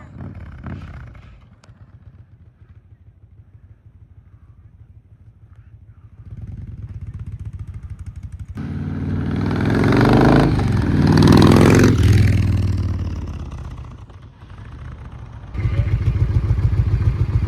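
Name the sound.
Harley-Davidson Road King motorcycle engine running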